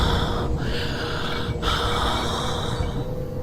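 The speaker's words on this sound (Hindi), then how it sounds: "सांसों की आवाज आने लगी।" Heavy, eerie breathing with snorting, gasping inhales and exhales fills a horror tale, close and loud over a constant low rumble, with two sharp breaths cutting through.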